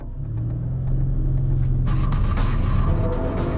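A 2014 Audi RS7 sedan drives along backcountry roads, its engine a deep steady rumble that swells as it picks up speed, heard from close by with no talking.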